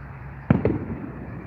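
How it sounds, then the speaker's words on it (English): Two sharp firework bangs pop in quick succession outdoors at night, fairly distant and muffled, over a low steady background hum. "I'm hoping that's just fireworks."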